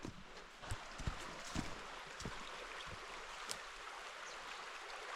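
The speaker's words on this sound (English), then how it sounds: "And I can hear the river already" A river flows through Lithuanian wilderness as a steady, broad rushing wash, with several close footstep crunches and snaps over the top during the first few seconds.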